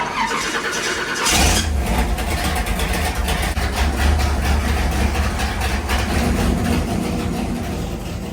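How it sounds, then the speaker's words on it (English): A car engine fitted with a new carburetor cranks and catches, then runs loud and steady close by with a rough idle and a slight squeal. "So we'll get Bob in here and we'll get this thing fired up and let you hear it run."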